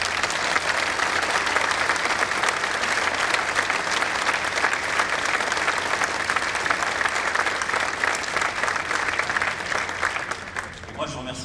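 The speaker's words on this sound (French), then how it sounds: "Donc vous pouvez vous applaudir vous" Staff at the Novo Nordisk factory in Chartres give sustained, dense applause during a speech, a loud even wash of many clapping hands lasting several seconds before tapering off at the end.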